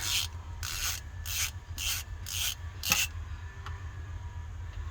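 A ratchet wrench clicks in a rapid, rhythmic series of six bursts while loosening starter bolts on a 1998 K1500 5.7 L truck, close and moderately loud over a low steady hum, then the clicking stops.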